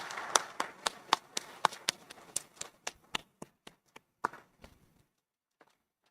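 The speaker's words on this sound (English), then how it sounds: "Please join me in a round of applause to express our appreciation." Scattered audience clapping at the 2024 ICPC North American Championship awards ceremony, sharp individual claps in an uneven rhythm that thin out and fade to silence after about five seconds.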